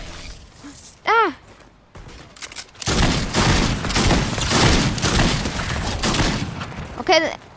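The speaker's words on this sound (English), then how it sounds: "Wait, I'll start shooting." Sustained bursts of automatic gunfire from a Fortnite match, loud and dense for several seconds; players shout and exclaim around it.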